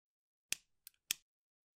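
Scissors snipping crochet yarn near the end of a fishing boat crochet piece, with three short crisp cuts spaced about a third of a second apart, close and clear in a quiet room.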